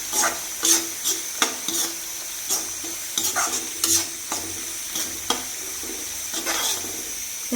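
Garlic added to a hot pan for Kerala-style beef pickle, with repeated stirring scrapes and a light sizzle at an even pace, heard close with no talking.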